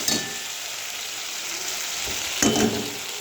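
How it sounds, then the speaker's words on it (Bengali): A ground spice paste with ginger and garlic fries in a pan with a continuous close sizzle, brief bursts of stirring and spattering near the start and again toward the end, and no voices. "মশলাটা ভালো করে কষা দিচ্ছে একটু, দেখুন আবার ভাজা হয়ে যাচ্ছে"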